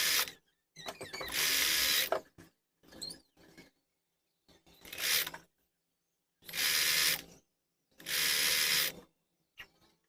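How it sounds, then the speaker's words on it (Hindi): A sewing machine stitching a blouse runs in short bursts of fast, whirring mechanical clatter, separated by quiet pauses. The bursts are close and fairly loud, and no one speaks. "यहाँ पे लगा लेती हूँ सिलाई।"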